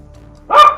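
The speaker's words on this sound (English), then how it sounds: "That's my dog." A single sharp dog bark, close and loud, bursting out briefly after a quiet stretch of low background hum.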